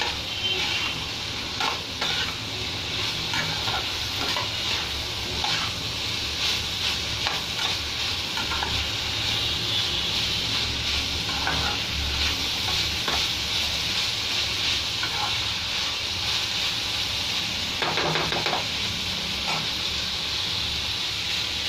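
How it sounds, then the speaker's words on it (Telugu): Eggplant pieces with seeds sizzling in a pan over high flame for a tomato curry, a steady close frying hiss with scattered scraping stirs of a utensil, no talk. "ఇదిగోండి గింజలు వేసేస్తాను, వేగాయి నేను హై ఫ్లేమ్ పెట్టుకుంటున్నాను."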